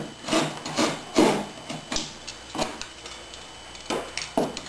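Fine side of a rasp filing cured epoxy-wetted fiberglass tape along boat seams, heard as a series of short scraping strokes in an irregular rhythm, close and fairly quiet, with no talking.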